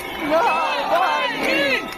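A large crowd at Navalny's funeral in Moscow chants in unison: many voices together in rising and falling rhythmic calls, close and loud.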